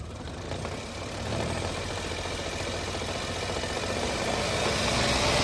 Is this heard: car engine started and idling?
yes